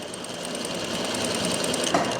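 A sewing machine runs steadily while stitching a half-inch sleeve seam on a kurti, a continuous close buzzing hum with no pauses.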